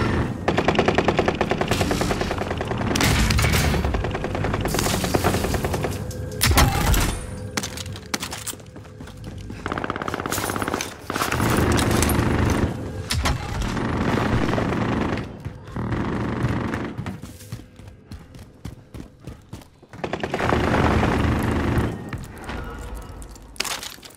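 Sustained automatic gunfire from Call of Duty: Modern Warfare, with rapid machine-gun bursts and scattered single shots firing almost continuously in loud, overlapping volleys, broken by a few brief pauses.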